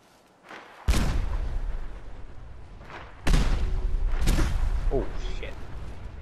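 Grenades going off in a video game, several heavy booming blasts with long rumbling tails, loud and close, rapid follow-up detonations and gunfire-like cracks layered over each other.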